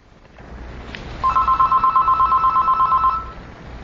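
A telephone rings with a rapid electronic trill lasting about two seconds, loud and close, following a brief click, with no voices over it.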